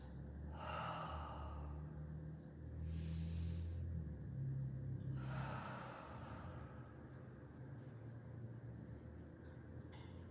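Three deep, audible breaths taken during a yoga pose, each a long breathy exhale heard close and fairly soft over a low rumbling background, with no talking.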